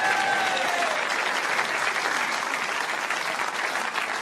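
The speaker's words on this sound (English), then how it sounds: "Give her a round of applause!" Applause from a live audience at a Birmingham chat show, a loud, continuous roar of clapping hands that holds steady from start to finish with no break.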